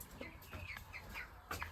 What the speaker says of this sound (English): Those are our 2 new chickens right there.